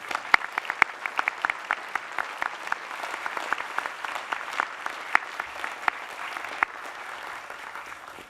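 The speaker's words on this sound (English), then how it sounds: "my notes now call for enthusiastic applause" Enthusiastic applause from a graduation ceremony audience for UTS Business School graduates, a steady wash of many hands clapping with sharp individual claps standing out, sustained at moderate level throughout.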